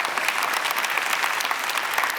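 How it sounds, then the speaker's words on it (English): A crowd at a start-up contest award ceremony gives a big round of applause for the contestants, with steady, dense clapping all the way through. "can I please ask you for a big round of applause for all 115 contestants from around the world?"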